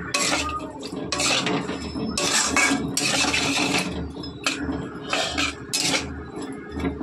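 Food being mixed by hand with torn green chillies in a bowl gives rhythmic bursts of squishing and clinking, close and fairly loud, with no one talking.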